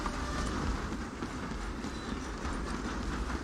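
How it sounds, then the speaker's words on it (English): Moving train in a Wild West video game, a steady dense rumble with faint rhythmic clatter running continuously and fairly close, with no talk over it. "I'm gonna ride ahead and stop the train."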